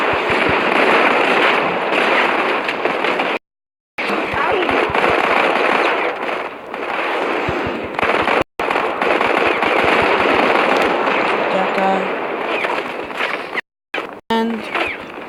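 Rapid automatic gunfire rattles almost continuously in a multiplayer match of the mobile shooter Modern Combat 5, loud and dense with a few short silent gaps, while a player talks over it.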